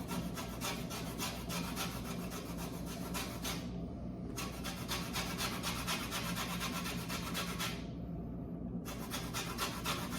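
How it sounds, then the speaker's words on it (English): Steady rhythmic rasping of lemons with thin, slightly old skins being zested on a grater, continuous back-and-forth scraping with two brief pauses, close and fairly quiet. "I'm just getting the zest and then I'm gonna squeeze the actual juice out"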